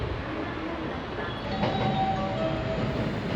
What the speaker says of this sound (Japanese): ホームには京都行きの電車がやってまいりました